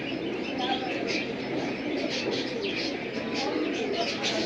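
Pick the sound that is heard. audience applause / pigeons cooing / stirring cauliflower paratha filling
pigeons cooing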